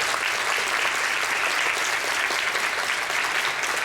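An audience at a school event applauds continuously, a dense, even patter of many hands that stays steady and fairly close throughout.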